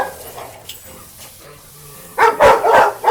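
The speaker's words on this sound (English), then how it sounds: "Look at those dogs over there barking." Dogs bark nearby, a burst of several loud barks near the end after quieter background sounds, with no talking.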